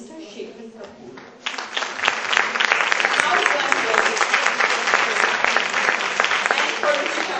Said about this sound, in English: a big round of applause for Mr. Shekhar Kapur